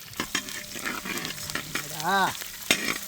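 Sliced green chillies and curry leaves crackle and sizzle in hot oil while a spoon stirs in short scraping strokes, loud and close, with no talk.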